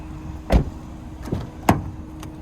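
Rear seat of a 2026 Honda HR-V LX being folded flat and snapped into place, heard as three separate plastic-and-metal clunks and latch clicks, close by and spaced about half a second apart.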